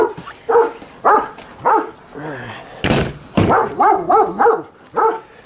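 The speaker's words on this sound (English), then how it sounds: "Forgive me, the neighbor's dog is terrible." A neighbor's dog barks in a steady series of sharp, fairly loud barks outdoors, with a louder thud midway and a few yelping barks afterward.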